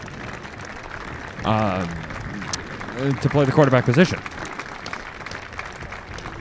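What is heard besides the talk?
crowd clapping at football game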